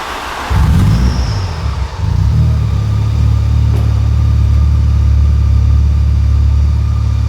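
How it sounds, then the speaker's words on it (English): A Volkswagen Golf GTI 16-valve engine idles with a deep, steady thudding rumble after starting up, loud and close, with no talking. "These things do roar anyway, the 16 valve, it's a real deep thuddy exhaust note."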